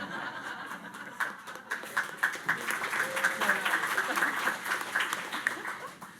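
A debate audience claps scattered, moderately loud applause, with chuckles and light laughter mixed in. The clapping builds and carries on to the end, and the laughter comes and goes through it.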